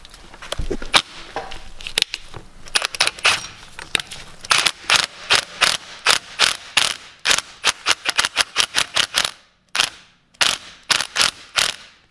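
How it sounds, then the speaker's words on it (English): An impact wrench on a Scion FRS hammers at a retainer in repeated sharp bursts of rattling blows, loud and close, broken by brief pauses. "Now I just took my impact."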